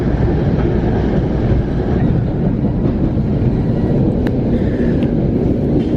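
A Metro-North commuter train near Port Jervis rolls along with a steady, loud, close rumble of wheels and carriage noise, continuous throughout, with faint clicks over the roar.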